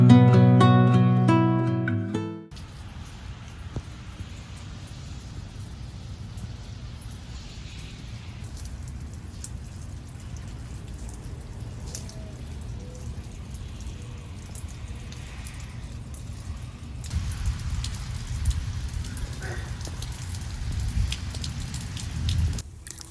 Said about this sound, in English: you guys, it rained